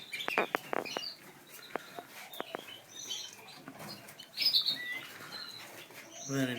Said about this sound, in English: And inside here, there's the red canaries.